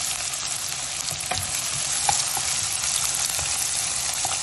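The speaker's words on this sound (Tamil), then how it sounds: "வெங்காயம் நல்லா வதங்கட்டும்." Chopped onions fry in a pan for malai chicken, a steady dense sizzle with occasional soft stirring clicks and pops, close and even throughout with no talking.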